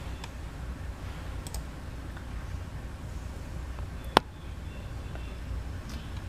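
A single sharp computer mouse click stands out against a steady background hiss, with a few fainter ticks scattered around it and nobody talking.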